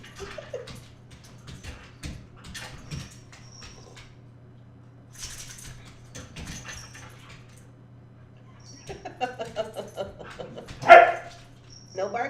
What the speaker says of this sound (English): No barking in the house, Lil.